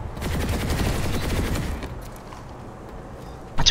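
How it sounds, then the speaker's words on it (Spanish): Rapid bursts of gunfire in the video game PlanetSide 2 rattle loud and close for nearly two seconds, then give way to quieter game ambience with a sudden sharp hit at the very end. "Te he oído unos disparos muy cercanos."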